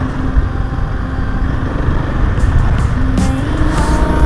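An enduro motorcycle ridden standing on a mountain trail in the Himalaya, its engine droning loud and close with a steady throb and a few brief higher revs toward the end.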